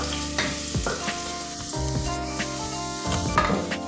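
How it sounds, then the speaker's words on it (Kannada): Chopped garlic roasting in a hot pan of oil for a moong dal and quinoa spinach dish, a steady loud sizzle broken by scraping stirs and a few clinks of a spatula against the pan. "ಇದಕ್ಕೆ ನಾನು ಚಾಪ್ ಮಾಡಿದ ಗಾರ್ಲಿಕ್ ಹಾಕ್ಕೊಳ್ತಿದ್ದೇನೆ. ಇದನ್ನು ಚೆನ್ನಾಗಿ ರೋಸ್ಟ್ ಮಾಡುವ,"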